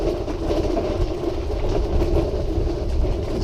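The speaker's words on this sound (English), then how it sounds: "it's doing a really nice job travelling over this pathway, albeit slightly noisy" Tracked wheelchair fitted with spider tracks rolling across a nature reserve pathway, giving a loud, steady, rumbling mechanical drone with a gritty clatter that carries evenly through the whole stretch.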